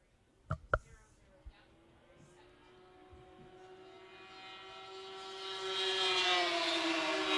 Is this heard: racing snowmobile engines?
yes